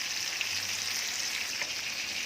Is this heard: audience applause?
no